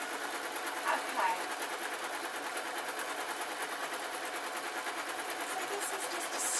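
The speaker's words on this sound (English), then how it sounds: "So this is just a straight running seam." A sewing machine runs a steady, continuous straight running seam through fake lamb's fur cushion fabric, a close, even mechanical whir with no pauses.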